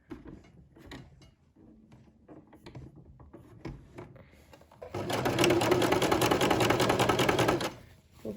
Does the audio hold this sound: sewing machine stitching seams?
yes